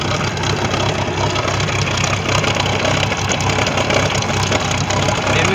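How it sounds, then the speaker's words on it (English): A boat engine idles steadily at close range, a constant throbbing rumble with a faint knocking rhythm and no voices. "we put the engine in it, it's running."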